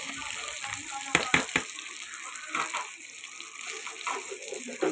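Ivy gourd (dondakaya) going into a hot pan with fenugreek leaves, giving a steady soft sizzle with a few sharp clatters and stirring knocks early on, moderately close, no talking.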